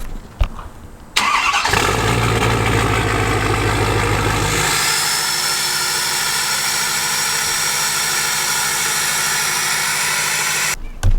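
Vehicle engine cold start: a brief crank catches into a loud, high roar of elevated revs, which after a few seconds settles to a steadier, lower idle, close up and with no talk.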